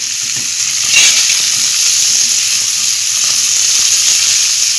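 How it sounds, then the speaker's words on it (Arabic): Potatoes sautéing with garlic, onion and bay leaves in a pan produce a loud, steady close-up sizzle and hiss, with soft clinks and scrapes of stirring scattered throughout and no talking. "يبقى احنا كده شوحنا البطاطس الاول ونزلنا عليها بورقتين لوري، اتشوحت ونزلنا عليها بايه، بالثوم والبصل كده"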